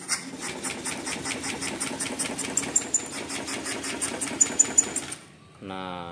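A Honda Scoopy scooter with a stalling fault and error code 52 cranks on the starter in a fast, steady chugging whir for about five seconds without catching. It then falls quiet, and a voice follows.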